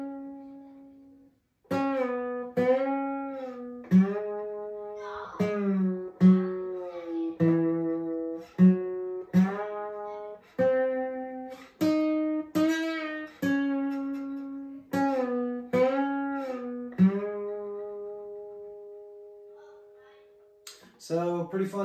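Slide part of a song on acoustic guitar, a sequence of plucked notes with gliding pitch slides, ringing clearly and alone with steady rhythm for about twenty seconds.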